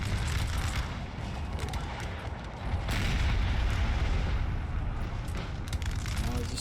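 Artillery fire rumbles through a Napoleon: Total War battle, a dense, continuous low roar of booming cannon that swells louder past the midpoint, with faint voices mixed underneath.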